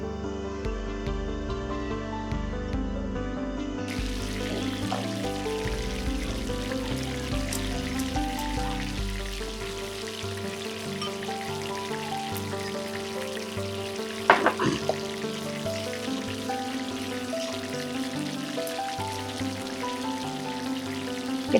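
Small prawns hit hot oil with black cumin in a pan and fry with a steady, dense sizzle and crackle that runs throughout, close and alone, with a few sharper pops partway through.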